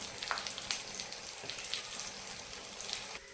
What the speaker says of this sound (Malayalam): അരിഞ്ഞു പോകാത്ത വിധത്തിൽ പൊരിച്ചെടുക്കുക.